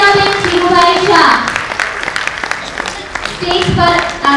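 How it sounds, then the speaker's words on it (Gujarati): Audience applause at a 50th anniversary ceremony of a Jain women's association in Vadodara, a sustained wash of clapping from a crowd with voices and music mixed in, loud and continuous throughout. "જોરદાર તાળીઓ થઈ જાય"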